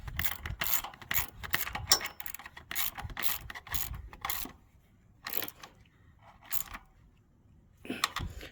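A ratchet clicks in quick bursts of pawl strokes while snugging bolts on a generator carburetor bracket during a gas-to-propane conversion, close and loud, with brief pauses between runs and no talking.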